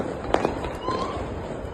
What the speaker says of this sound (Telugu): క్రాకర్స్ కాలుద్దామని పంపిస్తున్నానా